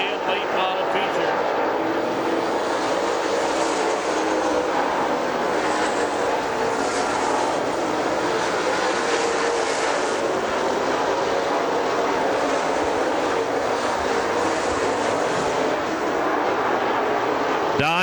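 Steelhead late model race cars roar around Dixie Speedway during a night feature, a loud continuous engine drone filling the air with a race announcer's voice running over it.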